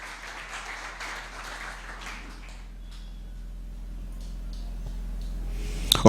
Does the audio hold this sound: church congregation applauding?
yes